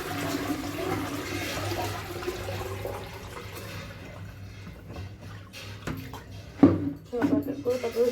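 Water being emptied out of two buckets one after another in a rain-soaked home, a steady pouring rush with sharper splashes near the end, close by.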